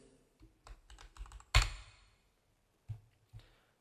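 A computer keyboard typed on in short bursts of soft key clicks, with one sharper, louder keystroke midway and a couple of isolated taps after, close and quiet with no talking.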